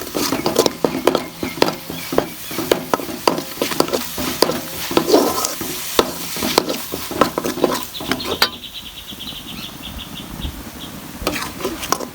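Chana masala ingredients, including tomato and ground onion paste, sautéing in a pan, with steady scraping stirs and clinks over a continuous sizzle that grows softer and calmer near the end.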